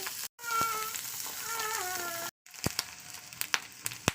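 Steady sizzling hiss of food frying in a pan, briefly cut off, then resuming with sharp scattered crackles and pops.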